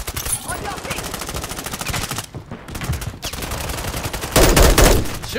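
Rapid automatic gunfire in the shooter game Modern Warfare III, loud, close bursts of repeated shots with brief gaps and a heavier blast near the end, game voice callouts mixed in.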